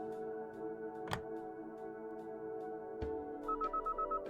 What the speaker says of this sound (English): Call the phone and see if her phone rings.